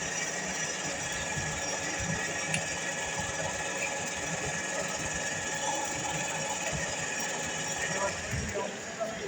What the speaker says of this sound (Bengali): এটা করে মেশিন আস্তে করে চালু করে হালকা চাপ দিতে হবে কাটার পর।